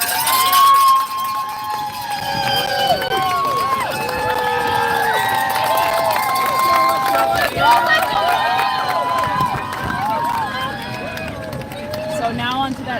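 A crowd lines the course near the finish of a women's 5K race in Ottawa, with steady cheering and shouting, scattered whistles and an excited babble of voices running throughout.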